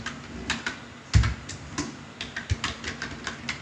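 Quick, irregular keystrokes on a computer keyboard while HTML code is typed, close and crisp with a couple of heavier thumps like the spacebar or enter key, no voice over it.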